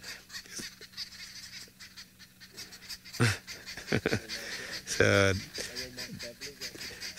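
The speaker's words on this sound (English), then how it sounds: "You can see, you can hear those birds making noise. They are chasing the spotted eagle owl." Arrow-marked babblers chatter noisily while mobbing a spotted eagle owl on safari, with harsh bursts of calls, a short voice, and a loud honking squawk in the middle.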